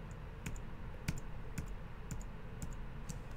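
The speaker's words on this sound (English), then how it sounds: "hold down shift and hit X on my keyboard" Keyboard shortcut being pressed on a computer keyboard, heard as a series of sharp, evenly spaced clicks from close by over a steady low background hum, with no talking.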